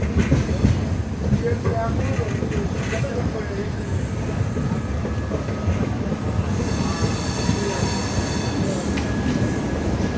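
A passenger train rolls into Renigunta junction running late, with a steady loud rumble of wheels on rails, metallic squeals and clatter throughout, and muffled voices in the background.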